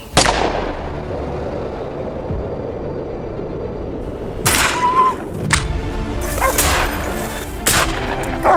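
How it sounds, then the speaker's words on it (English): Several sharp gunshots crack out during a wild boar hunt in the American countryside, a few spaced bursts standing out loud against steady outdoor background noise with no talking. "Gunshots ring out, and a wild boar falls."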